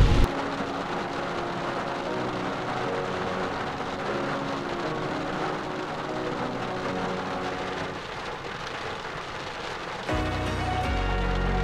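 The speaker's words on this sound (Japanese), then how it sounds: "めっちゃ雨降ってるし" Heavy rain pours down steadily over a campsite during a sudden downpour, a dense continuous hiss that stays loud throughout, with a slight shift in texture near the end.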